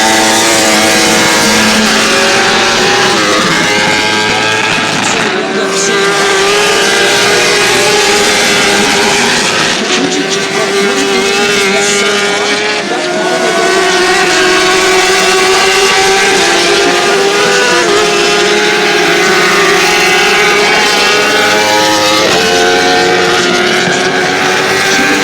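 Superbike motorcycles, including a BMW, race at Road America in Elkhart Lake, a loud continuous engine roar with high revving whine and gear changes, close and sustained throughout.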